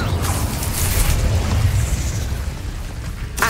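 Fire and descending-strike spell effects from Hogwarts Legacy roar as one dense, continuous booming rumble with crackling bursts, loud and close throughout, ending in a sharper burst.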